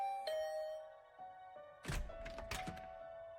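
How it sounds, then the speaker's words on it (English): A doorbell rings in the video game The Hundred Line: Last Defense Academy, a clear sustained chime tone with a few tinkling notes, followed by several dull thumps and knocks close by, no speech. "I had just returned to my room when the doorbell rang."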